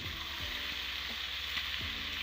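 Pieces of mutton fry in a pan for curry with a steady, close sizzle, while a utensil scrapes and stirs through the meat every half second or so.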